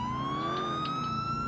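A video game police siren wails continuously, its steady electronic tone slowly rising, fairly close and loud, with no voices.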